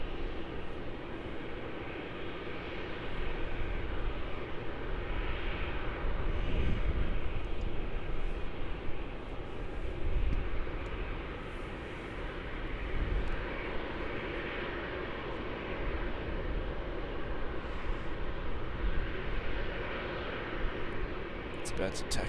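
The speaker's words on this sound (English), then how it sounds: "It's about to taxi into its gate, arriving into Melbourne." Boeing 737 airliner taxiing toward its gate at Melbourne Airport, a steady broad engine roar and hiss held throughout, rising and easing slightly, heard from a distance with people talking over it.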